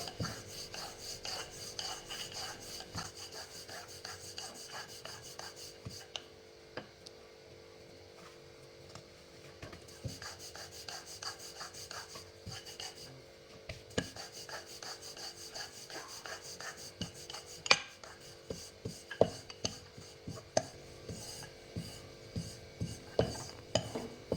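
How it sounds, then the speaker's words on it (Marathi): Chapati dough is rolled with a rolling pin on a flour-dusted board, repeated soft rhythmic rubbing and knocking strokes close by, steady and unaccompanied by talk. "अशीच आपण पीठ लावून फक्त गोल चपाती लाटून घेणार आहे."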